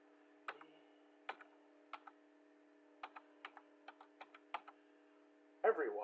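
Typing on a computer keyboard: a dozen or so sparse, distinct key clicks spread irregularly over a few seconds in a quiet room, ending with a brief louder clatter.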